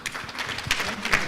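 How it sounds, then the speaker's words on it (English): A conference audience applauds panelists after a public finance discussion, a short burst of scattered clapping from a seated crowd, fairly close and steady. "Please, let's clap for them once again."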